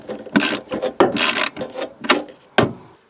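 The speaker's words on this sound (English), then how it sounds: "we'll tighten down the 8mm bolt" A ratchet tightening an 8mm bolt on the fog light housing of a Nissan Titan, close rasping bursts of clicks in uneven strokes with a few sharp knocks between them.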